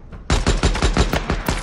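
Rapid automatic gunfire in the video game Days Gone, a loud close burst of about eight evenly spaced shots following a faint earlier pop, with no talking.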